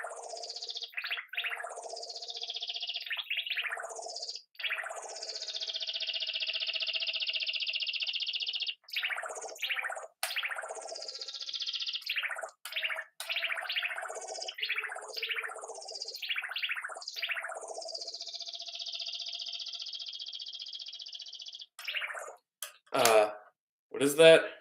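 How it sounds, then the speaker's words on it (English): A Stylophone Gen X1 plays an unusual programmed sound: loud, repeated swooping electronic chirps that glide downward over a steady hum, running almost continuously before breaking into a few sharp bursts at the end. "It's the stylophone."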